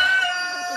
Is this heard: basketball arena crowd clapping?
no